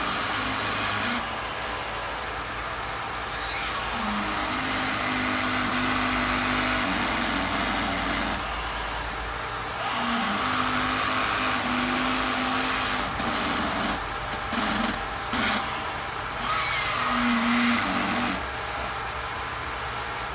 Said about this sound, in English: now we are going to start the vehicle